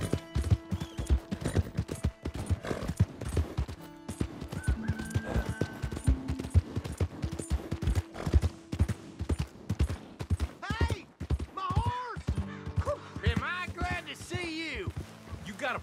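Horse hooves clip-clop in the Red Dead Redemption II video game, a rapid run of hoof strikes with a horse's whinny near the end and a voice talking over parts of it.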